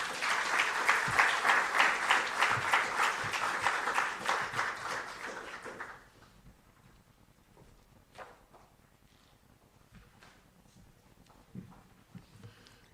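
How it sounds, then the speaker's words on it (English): An audience applauds at an examination results ceremony, a dense burst of clapping for about six seconds that fades out, leaving a quiet room with a few scattered thuds and shuffles. "Give her another round of applause"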